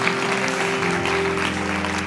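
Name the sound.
church congregation applauding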